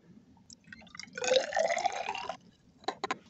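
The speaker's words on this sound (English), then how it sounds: "So the best way to do this is to pour it back into the graduated cylinder." Liquid is poured back into a graduated cylinder in a lab, a soft trickle and splash lasting about a second, followed by a few faint drips.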